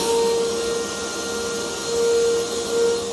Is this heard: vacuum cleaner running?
yes